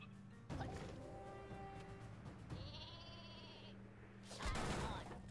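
The Super Sheep weapon in the game Worms W.M.D bleats cartoonishly amid crashing impacts and whooshing flight effects, with a loud burst near the end, all fairly close and busy.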